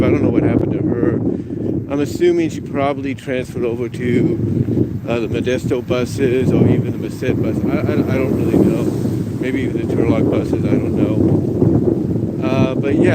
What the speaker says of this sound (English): I do apologize for the wind. It's been windy today.